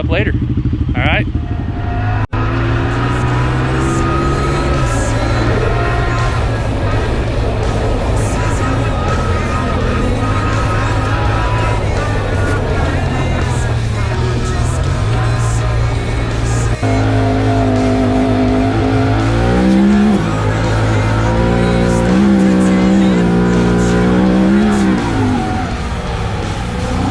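A Honda Talon four-seater side-by-side with Fox Live Valve suspension driving on sand dunes, its engine droning loud and close with rising and falling revs and shifts, someone talking over it throughout.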